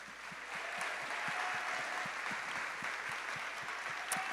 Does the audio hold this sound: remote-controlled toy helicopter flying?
no